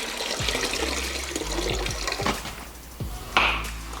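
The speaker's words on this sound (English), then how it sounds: "once you've found an acceptable place to dump your black water tank, you just pull off the cap and dump it out" Black water from a van's marine toilet holding tank gushes out at a dump station once the cap is pulled, a splashy pouring rush with gurgles and thuds, close and fairly loud.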